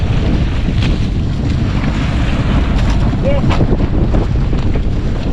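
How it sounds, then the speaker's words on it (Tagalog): Strong northeast monsoon wind roars loudly and continuously across the microphone, mixed with the rush of sea water and a small boat struggling against it, heavy and unbroken. "medyo malakas na po kasi ang amihan at hindi na kaya hindi na kaya ang bangka"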